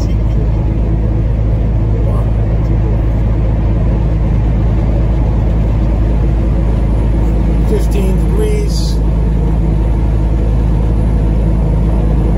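A truck drives along a highway, interstate 75 heading onto 280 South, giving a constant loud low rumble of engine and road noise throughout, with faint voice-like sounds in the cab.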